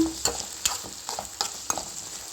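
Ridge gourd palya being stirred in a pan, a spoon scraping through it in about five distinct strokes over a soft background sizzle, close and with no talking.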